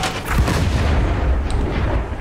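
Ship cannons in the game Blazing Sails fire cannonballs in a dense, rapid burst of loud, close booms that overlap into a continuous rumbling barrage.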